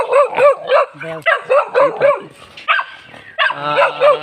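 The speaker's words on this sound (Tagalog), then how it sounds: "May aso tayo dito. May aso, matapang." A fierce dog on a mountainside barks repeatedly at close range, loud sharp barks in a quick irregular series broken by a few higher yips and whines.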